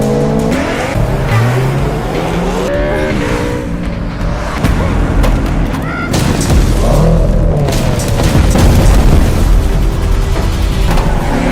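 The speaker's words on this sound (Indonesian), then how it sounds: "Bom yang dilemparkan Wujin membuat mobil Sohyuk sedikit oleng" A bomb blast strikes a car during a film chase, a loud boom over a constant roar of engines and tire squeal, with dense, busy action sound running throughout and no voices.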